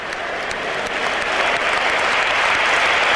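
Sustained applause from the crowd at an ice hockey game between Spartak Moscow and Canada, a dense steady wash of clapping that grows slightly louder through the short stretch.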